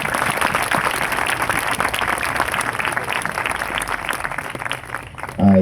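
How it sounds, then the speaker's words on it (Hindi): Loud, sustained applause fills a church congregation, dense clapping continuing steadily before tapering off near the end, when a voice briefly cuts in. "Please clap for them, clap for them."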